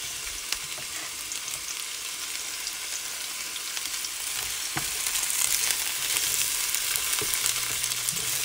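Diced red onion sizzles and frizzles in a frying pan, a steady crackling hiss that grows slightly louder partway through, with a faint clack of a utensil near the start and no talking.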